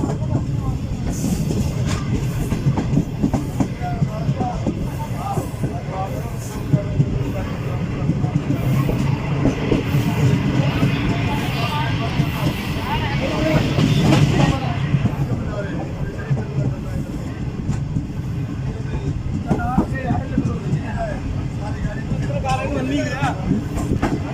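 Karakoram Express passenger train on the Karachi to Lahore run, heard from inside the last coach: a steady loud rumble of wheels and carriage noise throughout, with voices talking over it.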